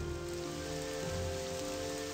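Rainfall landing on a water surface in the OpenMW game engine, a steady, even hiss with soft pattering that runs unbroken at moderate level and carries no voices.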